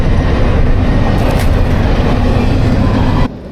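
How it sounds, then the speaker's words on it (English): A train rumbles steadily past close by, a loud continuous roar of wheels and rail noise with faint clatter, ending abruptly as it cuts off, no talking over it. "there's a train going by right now"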